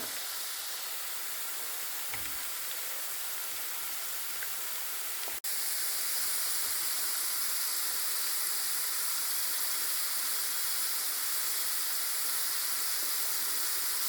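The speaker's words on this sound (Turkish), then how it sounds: "Patateslerimi de tavaya koydum. Şimdi onları kızartıyorum." A steady, even sizzle of potatoes frying in hot oil in a pan fills the background, broad and hissy, with a brief clatter partway through.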